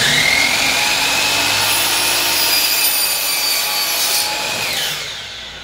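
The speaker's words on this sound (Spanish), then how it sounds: "Ahí pega la sierra en la marca que hice." A saw cuts through wooden door moulding with a loud, steady rasping that runs for about five seconds and eases off at the very end.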